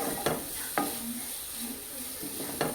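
Tomatoes sizzle in a frying pan for Kerala-style mango rice. A spatula scrapes and stirs them in three or four distinct strokes over a constant soft hiss.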